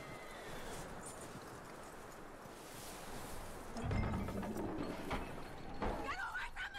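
Horse hooves clop amid a steady outdoor ambience in Red Dead Redemption 2, followed by a rising whinny near the end; voices murmur faintly in the background.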